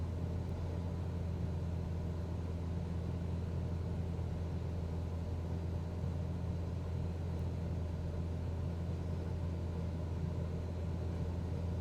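Cessna 172SP piston engine held at full throttle during a climb in Microsoft Flight Simulator, a steady, loud droning rumble with a constant low hum that never varies, heard alone without talk.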